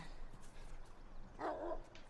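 Dogs in The Last of Us on PS4 let out one short, faint bark toward the end of a quiet, brief moment of low background ambience.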